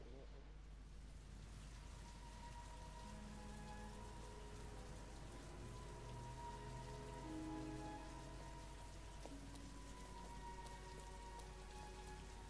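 Steady rain pours at a rundown motel in the game Heavy Rain, a dense even hiss of drops with faint sustained tones of sad music underneath, constant from start to finish.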